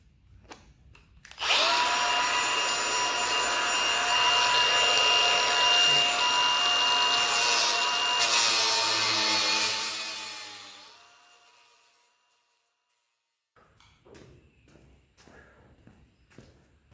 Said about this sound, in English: Got my gloves, got my eye protection, and my trusty grinder with the cutting wheel.